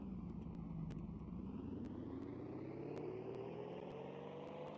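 Simulated car engine in a sandbox video game, a steady droning hum whose pitch climbs smoothly as the vehicle gains speed from a fall, continuous and fairly loud with no talking.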